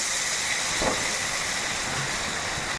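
Water poured into a pan of frying jackfruit-seed spice mix sets off a loud, continuous steamy hiss that holds steady and close for nearly three seconds, with a faint knock partway through.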